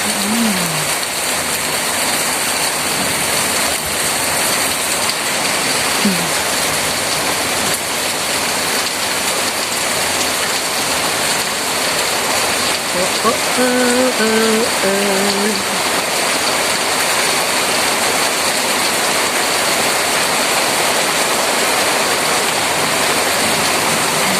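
Heavy rain pours steadily at a home called the Wonderland, a dense, unbroken roar that fills the whole stretch, with a voice briefly rising faintly over it partway through.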